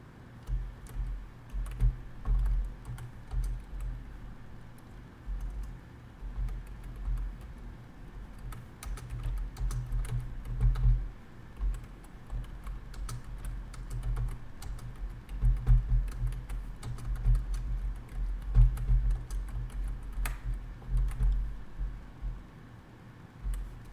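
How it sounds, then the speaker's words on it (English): Computer keyboard typing during a live online blitz chess session, with steady dense key clicks running throughout over a low background hum, fairly close and moderate in level, with no talking. "you won't hear me chat too much while I'm typing here"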